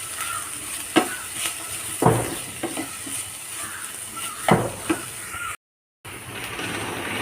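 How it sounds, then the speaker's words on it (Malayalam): Okra frying in a pan gives a constant sizzle, broken every second or so by sharp scraping strokes of a spoon stirring it, with a brief dropout near the end. "ഇതുപോലെ ഫസ്റ്റ് ഒന്ന് വെണ്ടയ്ക്ക വറുത്തെടുക്കുമ്പോൾ ഒട്ടി പിടിക്കുക അങ്ങനെയൊന്നും ഉണ്ടാവില്ല."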